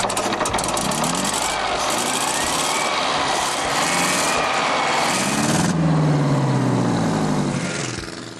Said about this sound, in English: as does the roar of the compressor.